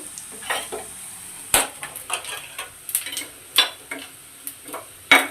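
Cumin seeds dropped into hot oil for tempering tomato dal give a light crackling sizzle, with scattered ticks and pops and a few sharper clicks of a spoon stirring in the pan, close and steady with no talking.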